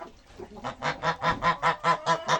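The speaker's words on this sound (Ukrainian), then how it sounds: "Що, гусь? Ти чого сваришся?" A domestic goose in a farmyard honks close by in a rapid string of about ten loud, evenly spaced calls, alone with no talk.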